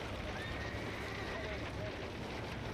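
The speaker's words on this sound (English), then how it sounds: "You gotta get the horses out." Horses trapped in a barn during a wildfire are led out, with faint neighing and movement buried under a dense, noisy rush of sound and voices.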